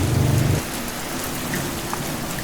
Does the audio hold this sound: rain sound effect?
yes